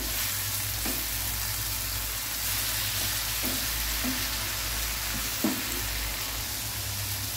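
Mushroom tikka frying in a pan, a constant close sizzle with occasional soft stirring scrapes and taps, no voices.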